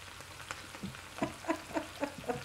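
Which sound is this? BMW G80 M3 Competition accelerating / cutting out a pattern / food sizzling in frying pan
food sizzling in frying pan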